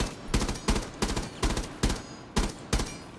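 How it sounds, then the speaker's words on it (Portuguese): Rainbow Six Siege gunfire: eight sharp, evenly spaced shots at roughly half-second intervals, loud and close, with no talk over them. "Tá dando um tiro em tudo aqui, mano."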